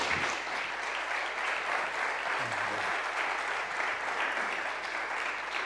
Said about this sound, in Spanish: pedirles un aplauso para nuestros